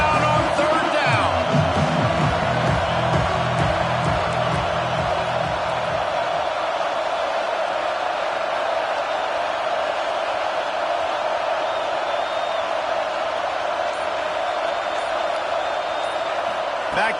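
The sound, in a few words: football stadium crowd cheering on third down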